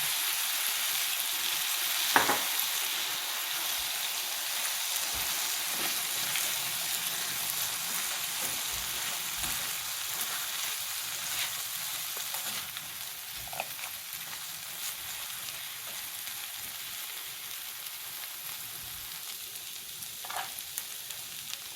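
Eggs fry in a pan for chicken chilaquiles, giving a constant soft sizzle with occasional faint clicks and stirring taps, heard alone and up close.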